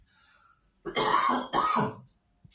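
Two harsh, forceful coughs close together, loud and near, with a quiet breathy lead-in before them and silence after.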